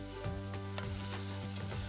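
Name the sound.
turmeric, cumin and coriander spices sizzling in pan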